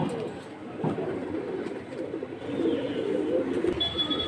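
Pigeons coo softly at a busy pigeon market, repeated low burbling calls blending into a constant crowd murmur with faint background chatter and a distant high tone.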